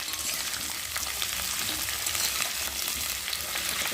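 Vegetables fry in a pan with a dense, even sizzle and crackle throughout, close and steady, with no talking over it.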